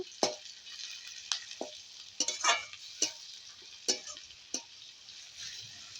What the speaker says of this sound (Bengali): এবার একটু নাড়াচাড়া করে নেব